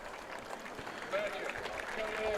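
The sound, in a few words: football crowd applauding injured player leaving field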